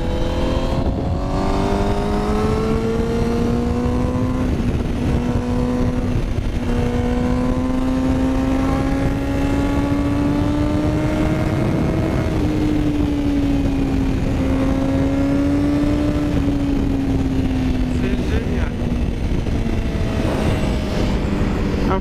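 A 2020 Honda CBR1000RR-R SP motorcycle engine revs high and continuously, its loud rising and falling whine filling the whole stretch as the rider climbs through the revs on the road.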